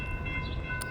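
A train at the BNSF Hinsdale station gives a brief, steady, tonal blast over a heavy low rumble, close and loud, ending with a short hiss.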